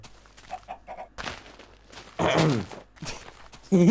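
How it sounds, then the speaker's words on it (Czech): Chicken in the Minecraft video game clucking in short, close bursts, with a louder squawk near the end and soft footsteps between the calls. "Ty vole kuře!"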